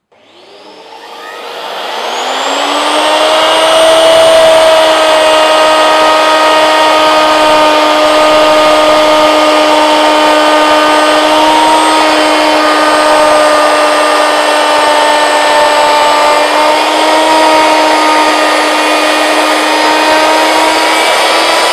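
A handheld wood router with a vacuum dust extractor attached spins up from silence to a loud, steady high-pitched whine and roar that holds for about twenty seconds, with no voices.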